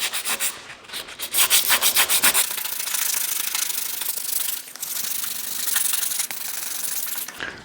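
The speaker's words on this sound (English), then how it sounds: "I'm going to start off with the 320 grit sandpaper." A car bumper being hand sanded with 320 grit sandpaper on a wooden block, a loud, close rasping with fast back-and-forth strokes at first and then steadier continuous rubbing.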